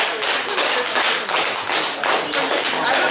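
Steady audience applause welcomes a bard onstage at a local singer-songwriter gathering: dense, close clapping from a small crowd, continuous and fairly loud with no voices over it.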